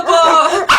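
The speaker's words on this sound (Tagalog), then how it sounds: "Kapag daw tumatahol yung aso sa gabi" A dog barks loudly and close at night, a single drawn-out whining bark followed by a short sharp yip.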